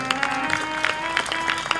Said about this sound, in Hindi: सभी जोरदार ताली बजा दें।